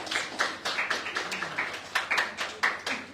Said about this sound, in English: So give Terry a round of applause